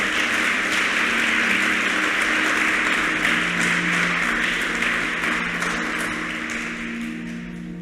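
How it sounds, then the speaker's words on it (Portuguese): A church congregation applauds the Lord in a sustained wash of clapping, steady and broad with a tonal hum beneath, gradually easing toward the end. "Quantos podem aplaudir o Senhor?"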